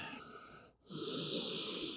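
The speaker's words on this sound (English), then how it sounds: "Breathing fully into the lungs." A single deep breath fills the lungs during a vinyasa yoga flow. A long, airy exhale is broken by a brief pause, then a fuller, louder inhale or exhale follows, close and clear with no talk.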